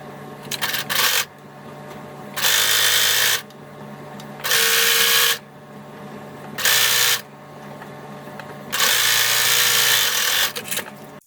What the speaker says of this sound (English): I don't sew it by hand. I just sew 1/8 of an inch away from this fold to catch this and the bottom